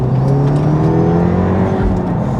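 A manual 500hp MK7.5 Volkswagen Golf R on the move, its engine giving a loud, steady drone with slowly rising and falling pitch, heard close and uninterrupted.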